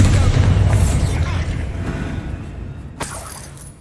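Confringo and Bombarda spells explode in Hogwarts Legacy: a heavy booming blast that rolls and fades over a few seconds, then a second sharp crack near the end.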